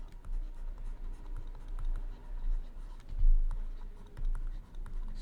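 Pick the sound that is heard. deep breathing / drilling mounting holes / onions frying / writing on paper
writing on paper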